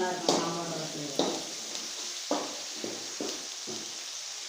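Whole green chillies dropped into hot sambar in a kitchen pot give loud sizzling bursts, several separate hissing splashes that each fade quickly, with faint stirring between them.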